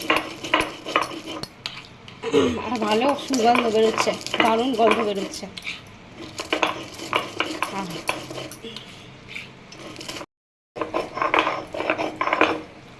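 Roasted chilies and spices are ground on a flat grinding stone for a vegetarian aloo dum, making repeated rough scraping and knocking strokes close by, with someone talking partway through.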